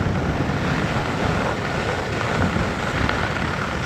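Wind buffets loudly and steadily while skiing down a glacier on a powder day, a continuous close roar with no pauses.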